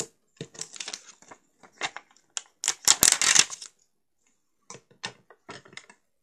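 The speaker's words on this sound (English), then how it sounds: "Just use my scissors, these are non-stick." Scissors snip and crunch through paper in scattered bursts, with a louder run of cutting in the middle and quiet pauses between.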